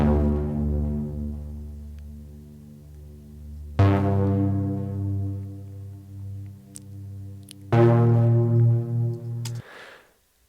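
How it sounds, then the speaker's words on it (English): Serum Echo Pad preset playing a low synth pad in three sustained chords, each swelling in and ringing with soft echoing tails, warm and atmospheric, with no voices. "I'm using the Echo Pad preset for that."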